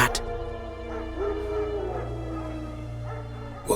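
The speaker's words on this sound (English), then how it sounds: "Wild dogs. Yes. More dangerous than wolves." Wild dogs in The Witcher 3 video game growl steadily and menacingly, a low rumbling snarl that runs the whole stretch with whimpering yips on top, close and fairly loud, alone without talk.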